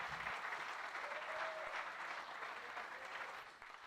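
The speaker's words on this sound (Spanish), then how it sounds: "¿Cuánto le dan un aplauso fuerte al Rey de la Gloria?" A church congregation at a national men's congress claps together, a steady wash of applause heard from some distance that fades slightly toward the end.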